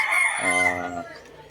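A hatch gray gamefowl rooster crows once, loud and close, a drawn-out call with clear harmonic tones that tapers off near the end.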